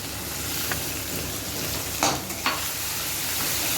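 Crushed ginger and garlic sizzle in a hot pan for a vegetable dish, a steady hiss of frying broken by a few quick scraping stirs of a utensil, close and alone.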